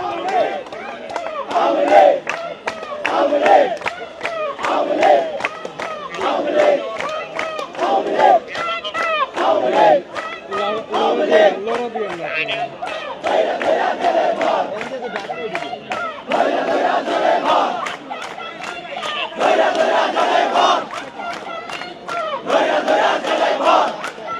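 Protesters at an overnight sit-in outside Jamuna, demanding a ban on the Awami League, chant slogans in loud rhythmic call-and-response bursts, a dense crowd of voices repeating steadily throughout.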